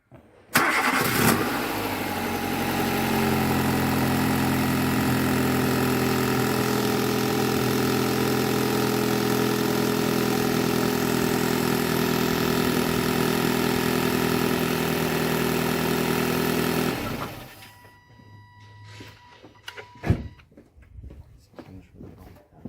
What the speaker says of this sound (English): we're going to have to start the car for a second